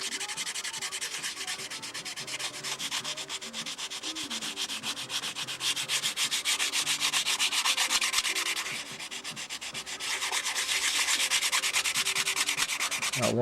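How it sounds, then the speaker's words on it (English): Hand sanding of a propeller for a Windy U Master 804, with sticky-back sandpaper wrapped around a tool. Steady, close scratchy rubbing strokes run continuously with no talk. "I can wrap the sandpaper, the sticky back Bernie Trent paper right around it."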